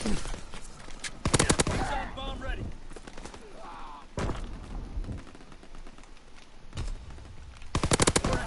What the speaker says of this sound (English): Gotta get a bit of grease gun action.